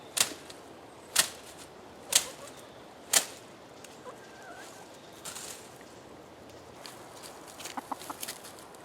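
Several sharp, evenly spaced calls ring out, followed by quieter, scattered clucking from chickens nearby.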